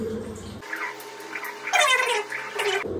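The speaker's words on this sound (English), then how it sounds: "And then just get some water on your face." Hands splash water onto a face while washing before a razor shave, a faint, close run of watery splashes and trickles over a low, steady background.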